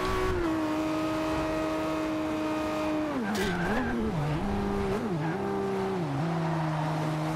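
Steady engine drone of racing cars in Forza Horizon 2, holding a constant pitch, then dipping and rising through repeated gear shifts and throttle changes in a close, continuous race.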